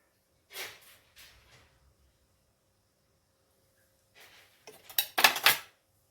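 Flattened rice being tossed with peanuts, grated coconut and coriander in a pan, heard as two brief scraping clinks, a pause, then a louder cluster of utensil-on-pan scrapes and knocks.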